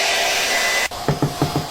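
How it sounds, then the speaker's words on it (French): A hair dryer blows a loud, steady whir while drying hair, then cuts off abruptly partway through, followed by a few brief knocks. "tu prends le sèche-cheveux et puis tu sèches"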